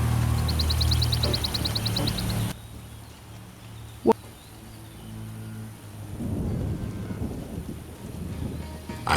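A thunderstorm in The Witcher game: steady rain hiss and low rumbling, a single sharp thunder crack midway, then rolling thunder swelling again toward the end, with no talk over it.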